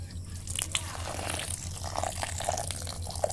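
Water poured into a bucket of duck feed mixed with rice bran, giving a close, steady trickle and splash with small drip-like spatters throughout and no voices.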